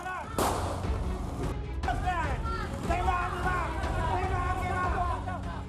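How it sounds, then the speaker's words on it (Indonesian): Police fire warning gunshots to break up a clash between residents in Medan Labuhan, Medan, at night: a sharp loud blast at the start, then a second crack, over crowd shouting and agitated voices. "Polisi melepaskan tembakan peringatan untuk membubarkan tawuran antar warga di Medan Labuhan"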